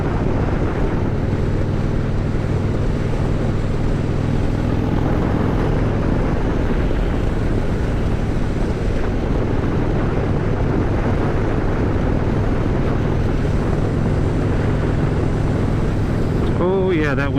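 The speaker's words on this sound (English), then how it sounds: "Oh yeah, that wind is picking up." Steady broadband wind roar buffets the microphone while riding along an Alabama highway, a continuous rushing noise with low rumble throughout, and a voice briefly speaks near the end.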